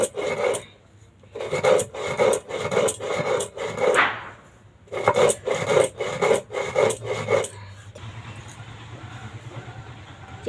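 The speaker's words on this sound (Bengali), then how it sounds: "এবার চিনিটা গুঁড়ো করে নিচ্ছি।" Sugar ground to powder in a mixer grinder for a cake, several short bursts of loud whirring and rattling separated by brief pauses, followed by a quieter steady hum at the end.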